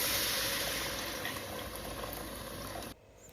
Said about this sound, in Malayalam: ഏകദേശം ഒന്ന് വറുത്ത് റെഡി ആയി കഴിഞ്ഞ് കഴിഞ്ഞപ്പോഴത്തേക്കും ഞാൻ അതിനകത്തേക്ക് വെള്ളം ഒഴിച്ചു